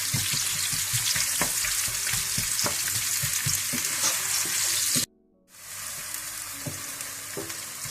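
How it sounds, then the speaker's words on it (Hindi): Onions fry and brown in a pot of hot fat for degi chicken biryani, a steady close sizzle with scattered pops and stirring knocks, briefly cut to near silence before the frying resumes. "इसमें आप प्याज डाल लें। इनको आप ब्राउन कर लें।"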